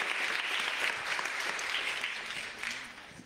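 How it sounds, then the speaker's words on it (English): A church congregation applauds during a Sunday worship service, a dense even wash of clapping that fades slightly toward the end, with no talk. "You can give him a round of applause."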